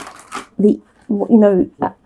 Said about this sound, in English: I think we will try one of these cosmic cards, and we will shuffle there